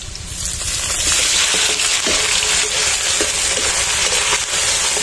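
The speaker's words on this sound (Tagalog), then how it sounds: "Igisa na namin." Duck pieces sautéing in a pan make a loud, close, steady sizzle with occasional scrapes and pops of stirring, no talk over it.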